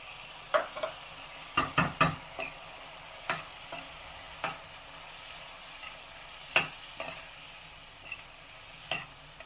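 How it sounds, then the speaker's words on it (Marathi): Toor bean sprouts are stirred and fried with masala in a pan for a Vidarbha-style khichdi, giving soft sizzling under a run of sharp spoon-against-pan scrapes and clinks at irregular intervals. "आणि यानंतर लगेचच हे तुरीचे दाणे टाकायचे आहे आणि परतवून घ्यायचे."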